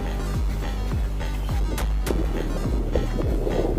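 A strong 30-mile-an-hour crosswind at a Nebraska shooting range buffets the microphone in a continuous low roar, with a few sharper gusts and knocks mixed in.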